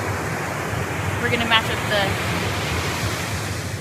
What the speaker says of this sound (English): The waves are coming down.